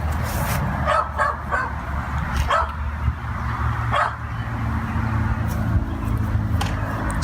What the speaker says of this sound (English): Still can't get my dog to stop barking.